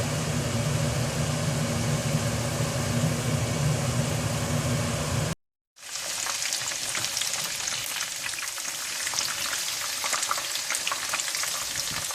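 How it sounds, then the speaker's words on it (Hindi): Chicken pieces frying in hot oil for Chicken Manchurian, a loud steady sizzle with bubbling crackle that breaks off briefly and then resumes as a brighter, hissier fry. "इसी तरह से आप बाकी सारा चिकन भी फ्राई कर लें।"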